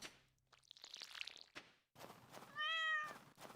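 Cat in the Stardew Valley video game gives one clear, drawn-out meow, preceded by light clicking and thudding game sounds, with no speech.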